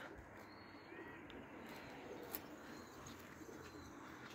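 Pigeons cooing faintly and far off over a steady wash of outdoor background noise, with no clear voices nearby.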